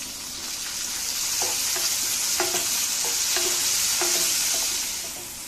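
Tomatoes go into a frying pan with softened onion and fenugreek seeds for kaara kuzhambu and are stirred, giving a steady close sizzle with a few light scraping knocks from the spatula and no speech.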